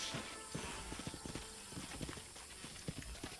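Horse hooves in the video game Red Dead Redemption, a quick steady clip-clop of rapid hoofbeats over a noisy background, faint and continuous.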